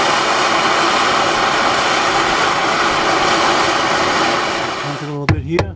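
A torch flame roars steadily and loudly while heating a seized brake bleeder screw, a broad continuous hiss that cuts off near the end, followed by brief clunks and a voice.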